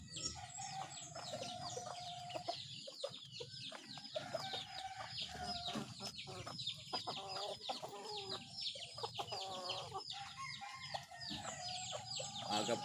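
Pet chickens eating mango cluck and cackle continuously at close range, with short clucks and longer cackling calls overlapping throughout.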